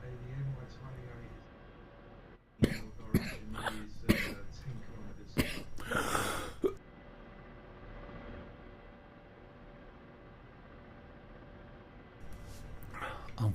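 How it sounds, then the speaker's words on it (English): A person coughs in a cluster of sharp, harsh bursts over a few seconds during a quiet flight-simulator live stream, followed by a lull and a faint final cough. "I'm coughing like a lot today."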